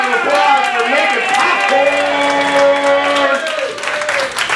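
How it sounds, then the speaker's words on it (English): Guests at a Lions Club awards night applaud loudly, mixed with cheers, whoops and chattering voices that carry across the whole stretch. "give a big round of applause"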